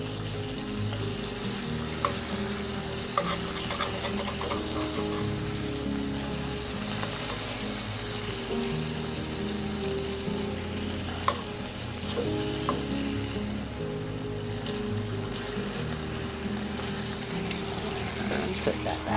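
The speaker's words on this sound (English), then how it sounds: "Okay, now we're going to check on our bacon. We're just going to flip it." Bacon strips sizzle steadily in a frying pan as they are flipped, with a constant crackling hiss broken by occasional clicks and scrapes from the utensil and pan.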